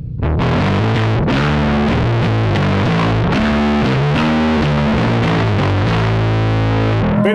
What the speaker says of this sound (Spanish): me da un tono bastante fuzz.